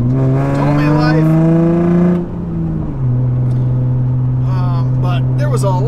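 A Nissan 350Z with a loose subframe launches, its engine holding a loud, steady high drone close by before the pitch drops, then settling into a lower sustained tone with faint voices toward the end.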